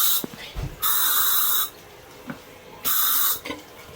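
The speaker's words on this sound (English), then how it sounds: "I'm going to take some of the disinfectant spray" Disinfectant spray misted over a toilet during cleaning, in two long hissing bursts separated by a pause, with faint handling noises in between.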